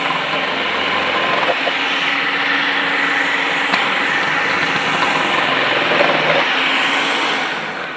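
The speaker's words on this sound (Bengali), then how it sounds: "এক স্পিড দিলাম আজকে। দেখেন যদি স্পিড বাড়াতে চান আরো বাড়ায় নিতে পারবেন।" A Niyama 1200 W food processor slicing carrots on its first speed setting, a steady loud motor whir that runs continuously and tapers slightly at the end.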